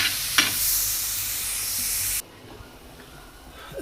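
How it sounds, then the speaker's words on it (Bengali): Steady loud frying sizzle of onion, garlic and chili in a pan with a brief stir, then it cuts abruptly to quiet background hiss. "এই যে দিলাম পেঁয়াজ রসুন মরিচ, এটা টালতে হইবে একটু।"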